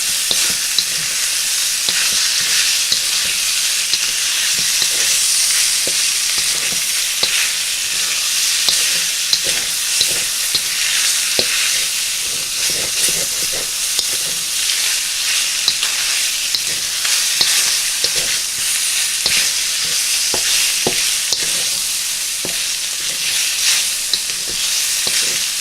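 Deep chunks of pork stir-frying in a pan for a noodle dish: a loud, continuous sizzle up close, punctuated by frequent sharp clicks and scrapes of stirring, with no voices over it.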